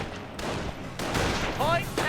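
Gunfire in a Company of Heroes skirmish against Panzer Grenadiers, with dense crackling bursts and muffled battle noise, moderately loud and continuous over two seconds, with someone talking over it.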